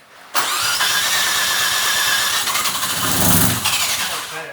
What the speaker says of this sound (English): good news is that we got the car started